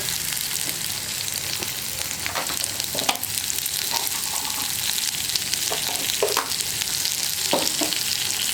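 Garlic, onion and split green chillies sizzle steadily in hot oil in a pan for a potato soya masala curry, with a few soft stirring clinks over the constant frying hiss and no talking.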